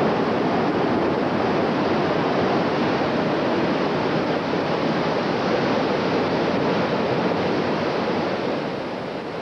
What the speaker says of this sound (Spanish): Cascadas de agua caen por las pendientes de las montañas, reuniendo fuerzas